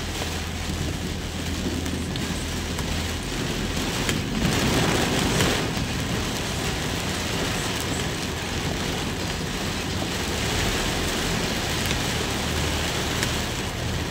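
Heavy rain pours steadily in a tropical storm, a dense continuous hiss with a low thunder rumble swelling faintly around the middle, no voices.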